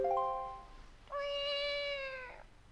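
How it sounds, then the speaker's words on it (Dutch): A cartoon cat in The Legend of Zelda: Wind Waker HD gives a short high meow, then a longer drawn-out meow that rises and falls, both clear and close with no talk. "Maakt hij nou dat miauw geluidje?"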